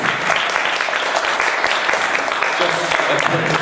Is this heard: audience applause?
yes